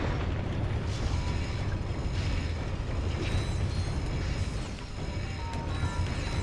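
Continuous explosions and gunfire in the Ratchet: Deadlocked video game, a dense, loud barrage of blasts and crackling impacts running throughout without pause.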